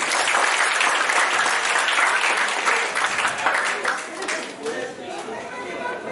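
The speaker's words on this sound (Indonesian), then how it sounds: "Baik, tepuk tangan semuanya" Students at a high school classroom session applaud together in a dense, steady burst of clapping mixed with crowd chatter, thinning slightly toward the end.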